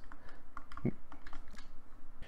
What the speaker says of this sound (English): Now the rest of the face buttons are your standard fare clicky buttons